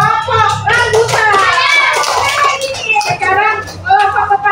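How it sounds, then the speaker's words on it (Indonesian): Applause breaks out for a classroom group, with busy hand clapping running the whole time under overlapping children's chatter and voices. "Tepuk tangan buat kelompok rambutan"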